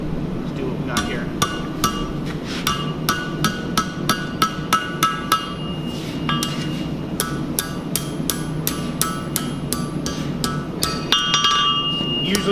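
A hammer strikes hot steel being shaped into a candy cane over the horn of an anvil at a blacksmithing class. The blows ring out bright and metallic, with around twenty-five steady hits and brief pauses, against a low background hum.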